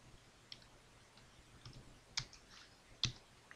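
Sparse, faint clicks of keys on a computer keyboard while Python code is typed, a few isolated taps spread out over a quiet background.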